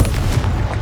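In Hogwarts Legacy, a Confringo fire blast spell goes off as a single loud, close, booming burst that fills the whole short moment, with no voices over it.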